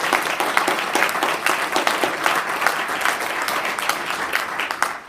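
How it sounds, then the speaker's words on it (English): Sustained applause from a conference audience thanking a roundabout panel, dense steady clapping that holds through the whole stretch at fairly close range, with no talk over it. "We can give them a round of applause."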